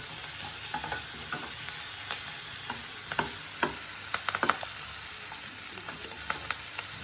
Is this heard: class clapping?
no